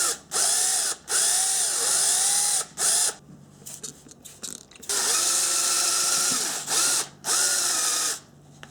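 Drill spinning a homemade sandpaper-wrapped hone inside a Honda Trail 90 cylinder, a high steady whine with a wavering pitch, run in several bursts separated by short pauses, close and fairly loud.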